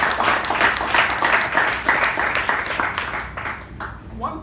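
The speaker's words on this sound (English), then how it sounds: "Let's give her a special round of applause." Audience at an installation ceremony gives a special round of applause, steady clapping at full strength that thins toward the end as a voice begins.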